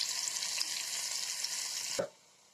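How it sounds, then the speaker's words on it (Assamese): Chopped onion frying in hot oil in a pan for an Assamese fish curry, with a steady close sizzle that cuts off abruptly near the end, leaving a quiet background. "এই পিঁয়াজখিনি এতিয়া অলপমান ফ্ৰাই কৰি ল'ম"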